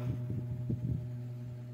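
A steady low electrical hum from a B-35 bass amplifier switched on with no input, with a few soft thumps over it, close and constant.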